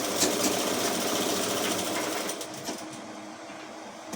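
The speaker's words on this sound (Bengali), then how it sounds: "আমার মেশিন আছে বলে আমি মেশিনে ফলস পাড় বসাই" A sewing machine stitches a false border onto fabric with a steady, fast mechanical whir and rattle that runs loud and continuous, easing slightly toward the end.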